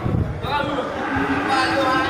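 A female Aceh crossbreed cow lows in a low, drawn-out moo that lasts about two seconds, close by, with farm background noise around it.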